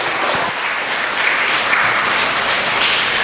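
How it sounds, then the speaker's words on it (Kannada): Worshippers in a church service clap in praise of God, producing loud, dense, sustained applause that fills the room evenly for several seconds. "ದೇವರಿಗೆ ಚಪ್ಪಾಳೆ ತಟ್ಟಿ ಸ್ತೋತ್ರ ಸಲ್ಲಿಸಿ."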